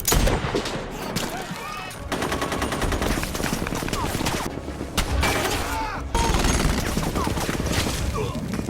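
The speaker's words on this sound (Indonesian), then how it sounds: "Tapi saat baku tembak terjadi, si Johnny justru tewas tertembak." Rapid automatic gunfire crackles through a firefight scene in the film Sniper Legacy, with dense overlapping bursts and loud cracks continuing almost without pause, mixed with a soundtrack and occasional voices.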